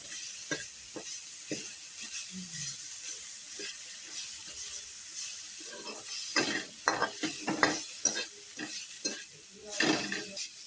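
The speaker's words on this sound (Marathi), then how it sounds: "आला लसूण पेस्ट टाकते हे ढवळून घेते" Ginger-garlic paste frying in a pan and being stirred, a soft sizzle broken by irregular scraping and clinking spoon strokes that grow louder and more frequent in the second half, close by, with no talking.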